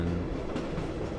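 A metro train in Half-Life rumbles past in a short, loud burst of rail noise with rolling low clatter, heard alone without speech.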